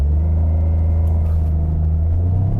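A 2025 Toyota GR Corolla's engine is held at high revs against the brake before a launch control start, a steady loud rumbling drone close by with no talk over it.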